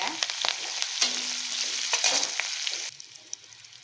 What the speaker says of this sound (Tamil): ஸோ இதெல்லாம் வதங்கினதுக்கப்புறம்